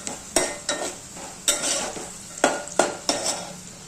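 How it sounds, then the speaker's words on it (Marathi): Chilli and mutton masala sautéing in hot oil while being stirred, several scraping spatula strokes in an uneven rhythm over a steady soft sizzle, close and moderately loud, with no talking. "आणि चांगलं तेलामध्ये ना परतवून द्यायचं."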